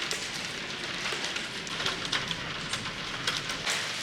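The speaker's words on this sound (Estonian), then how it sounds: "Õues oleks mingi räiget rahet sadama." Hail falling outside, a steady dense hiss of pattering with scattered sharper ticks, heard from indoors at moderate level without speech.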